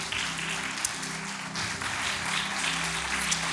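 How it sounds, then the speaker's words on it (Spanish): A church congregation applauds in continuous dense clapping over a low background of music or hum, fairly distant and even throughout, with no clear speech. "Dele un fuerte aplauso al Señor."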